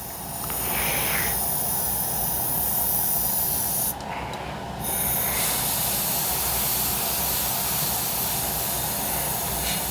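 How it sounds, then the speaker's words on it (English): Compressed air blasts onto very wet paint in a steady, loud, broadband hiss that runs almost the whole time, dipping briefly near the middle before resuming. "going in with the compressed air this time, because that is very, very wet"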